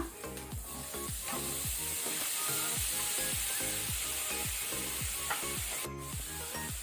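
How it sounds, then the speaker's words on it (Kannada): Tomatoes frying with ginger garlic paste on a medium-high flame, a bright constant sizzle under a regular rhythm of spatula strokes scraping the pan, close and fairly loud. "ಈಗ ಟೊಮ್ಯಾಟೊವನ್ನು ನಾವು ಮೀಡಿಯಂ ಟು ಹೈ ಫ್ಲೇಮ್ ಅಲ್ಲಿ 1 to 2 ಮಿನಿಟ್ಸ್ ನಾವು ಫ್ರೈ ಮಾಡ್ಕೊಳ್ಳೋಣ."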